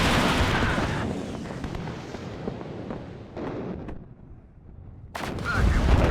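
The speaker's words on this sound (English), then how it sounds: "Another tank taken out." A tank is destroyed amid a WARNO wargame battle with armored forces, heard as heavy booming blasts and rumbling over a dense wash of gunfire and explosions. The noise thins briefly, then a loud burst returns near the end.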